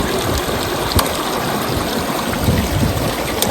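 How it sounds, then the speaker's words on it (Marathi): Mountain stream on the Kauri Pass trek in the Himalayas, water rushing in a steady, loud, close wash while drinking water is collected, with no talking. "तर मी आता घेतोय पाणी भरून आम्हाला पियायला"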